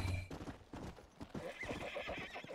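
A horse gallops in the video game Red Dead Redemption: Undead Nightmare, with quick, rhythmic hoofbeats at moderate volume.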